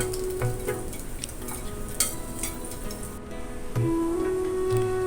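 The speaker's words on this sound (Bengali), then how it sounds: "খেতে চলে আসছে তাই গরম গরম ভেজে দিচ্ছি" Small fish fry in a hot pan on a stove, giving a steady, fairly loud sizzle with occasional stirring clinks and scrapes, and no talking.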